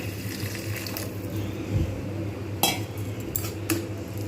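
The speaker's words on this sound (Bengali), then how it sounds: "এইবার আমি এর মধ্যে দিয়ে দেবো পরিমাণ মতো জল আলুটা একটু সিদ্ধ হওয়ার জন্য" Water poured into a pan of omelette curry with potatoes, a steady close splashing flow broken by a few sharp metallic clinks of utensils against the pan.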